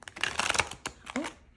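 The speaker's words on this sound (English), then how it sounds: "I need to shuffle these cards, so the camera is gonna shake" Tarot cards are shuffled by hand, giving close bursts of crisp riffling and flapping in quick uneven clusters, with a brief murmur of voice near the end.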